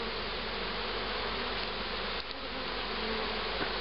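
Honeybees swarm around an open beehive, a dense, steady buzzing that stays loud and close for the whole stretch with no voices.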